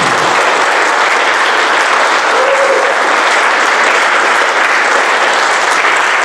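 A conference audience breaks into loud, sustained applause for an organiser, a dense wash of many hands clapping close and steady throughout with no letup.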